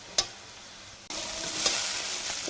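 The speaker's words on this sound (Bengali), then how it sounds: "চাউমিনটা ভাজা হয়ে গেছে" Chow mein being stir-fried in a pan: a utensil clatter, then a louder, continuous hissing sizzle with another scrape of tossing, up close and with no voices.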